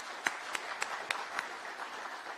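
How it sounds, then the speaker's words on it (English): Light, scattered clapping from a small crowd at a Tatu City, Kenya event, fairly quiet and steady throughout. "round of applause for CCI Global and everything that you have done here"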